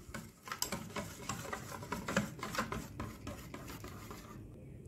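A spoon stirs yellow-tinted batter for a layered lapis makjo cake in a bowl, making soft, quiet, rapid scraping and tapping that continues throughout.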